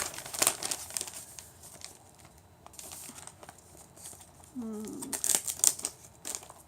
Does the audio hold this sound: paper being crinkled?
yes